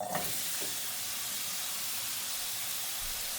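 Onions and peppers sizzle steadily in butter in a hot pan, with a brief sharper hiss at the start as they go in, settling into a constant, even frying crackle.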